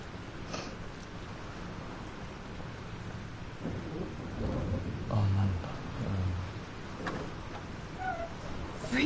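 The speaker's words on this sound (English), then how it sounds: "This storm is real." Thunderstorm with rain in the video game Life is Strange: a steady hiss of falling rain with a low thunder rumble swelling in the middle, fairly faint and distant, with a brief voice sound.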